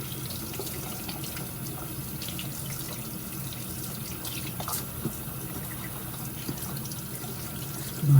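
A sink sprayer runs steadily during cleaning, sending a close, constant rush of water into a basin with faint splashes and drips and no voices.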